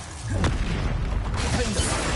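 Fire and ice spells from Hogwarts Legacy go off in a loud, dense magical burst with a swooshing rise and a sustained, crackling roar that fills the short moment.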